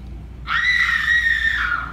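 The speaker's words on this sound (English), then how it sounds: "How would you scream?" A woman lets out a sustained, high-pitched horror-film scream, loud and close, rising sharply and holding for about a second and a half before tapering off, performed alone at a live special-effects show at Universal Studios.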